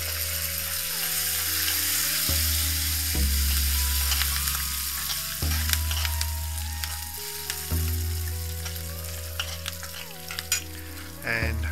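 Chopped curry leaves crackle and sizzle steadily in hot oil while being stirred, with a low electric hum beneath and occasional clinks of a utensil, close and continuous for about twelve seconds.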